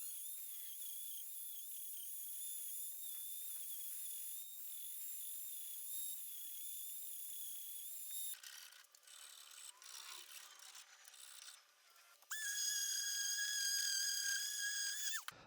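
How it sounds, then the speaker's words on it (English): An angle grinder fitted with a wood carving disc cuts into wood, giving a steady, high, tonal whine that shifts in pitch and grit partway through and then rises again to a bright, loud hum, with no talk. "I need to hit a couple more spots with the angle grinder just to get this, the shape, the right shape."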